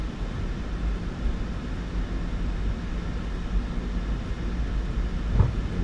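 A PMDG 737-800 airliner taxiing in a flight simulator, with a steady low engine rumble and a broad hum holding near-constant, plus a brief thump near the end, alone and fairly loud.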